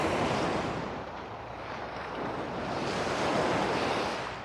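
Ocean waves washing onto a beach at sunrise, a continuous close rushing surf that swells and eases, with some wind noise and no voices.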